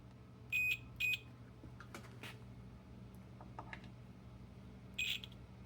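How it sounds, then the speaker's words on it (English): A continuity tester beeps while probing a fuse during wiring work on a Mustang GT, giving two short high beeps close together, then one more a few seconds later, over a quiet hum with faint handling clicks. "We'll try with the beeper."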